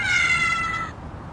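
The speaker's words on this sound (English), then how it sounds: "it's a little bit of a scary sound, but it's supposed to be a meow" A synthetic cat meow played back from a phone app, one drawn-out, slightly eerie tonal cry lasting under a second, loud and close, then a quiet tail of room noise.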